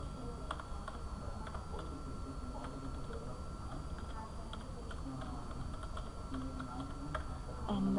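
Keys tapped on a computer keyboard while registration details such as names, phone number and email are entered, giving a steady run of soft clicks under faint background hum.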